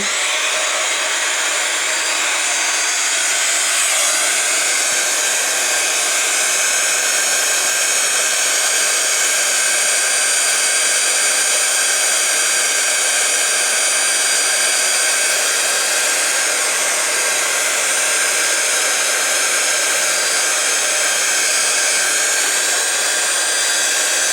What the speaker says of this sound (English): it's going to get noisy with a heat gun